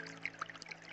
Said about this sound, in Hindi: सामने बहती हुई नदी को देखिए,